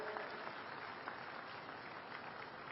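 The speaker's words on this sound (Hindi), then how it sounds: "एक बार जोरदार ताली बजा के उनका स्वागत करें" Audience applause at a women's prosperity conference in Bhilai, welcoming a guest: a steady, dense wash of clapping from a crowd that stays even and fairly soft throughout, with no speech over it.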